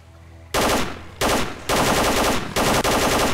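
Automatic gunfire in STALKER: Call of Pripyat, loud close bursts of rapid shots starting after a short quiet lead-in, with four sustained volleys separated by brief pauses.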